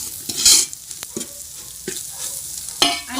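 Masala with salt and turmeric is roasted and stirred in a pan for Kolhapuri misal, with scraping spoon strokes and clanks against the pan over a soft, low sizzle, close and without talk.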